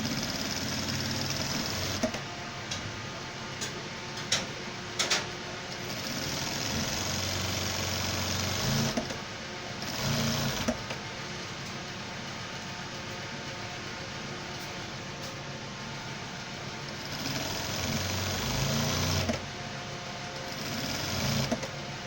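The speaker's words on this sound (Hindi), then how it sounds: "ये पल्ले को टाइट रख के बस सिलाई लगाते चले जाना" Sewing machine stitching formal trouser leg panels together, a steady continuous motor whir with brief pauses and restarts as the fabric is fed through.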